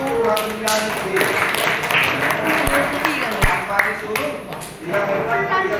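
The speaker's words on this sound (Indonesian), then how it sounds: "Tepuk tangan untuk kelompok 1." Classroom applause for a student group, many hands clapping in a dense patter with a few sharp taps, under and mixed with people talking.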